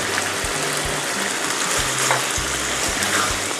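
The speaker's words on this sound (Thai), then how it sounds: "ตอนนั้นก็ผัดไฟแรงเลยนะครับ ให้น้ำมันแห้งลงนิดนึงนะครับ" Broccoli and tomato stir-fried over high heat in a pan, a steady dense sizzle with low thumps and scrapes of stirring recurring through it, close and fairly loud with no voices.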